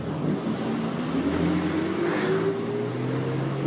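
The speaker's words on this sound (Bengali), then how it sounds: "বাসটা কোথায় যাবে" A bus engine drones steadily from inside the vehicle, a continuous low hum with a slowly rising whine, fairly loud and without voices.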